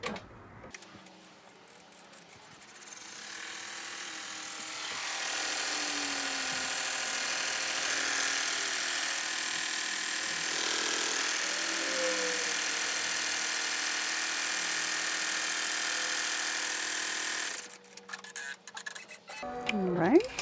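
An embroidery machine sewing the last bean stitch around the pockets of an in-the-hoop passport cover, a steady close mechanical whir and rapid ticking that runs for about twelve seconds, then stops, with faint speech before and after.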